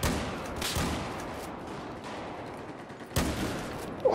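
Gunfire rings out in a shooter video game, with a loud sharp shot at the start, another burst near the middle and a final report near the end, over a dense, noisy background.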